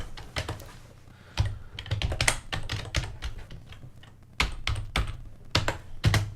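Typing on a computer keyboard while entering a line of code: quick bursts of clattering keystrokes with short pauses between them, close and clear, no talking.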